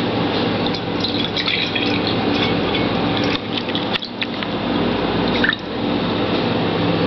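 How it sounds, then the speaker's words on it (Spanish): Water is poured from a jug into a glass, a close, continuous splashing trickle with faint drips and clinks, briefly pausing midway before resuming. "Echan el agua en el vaso"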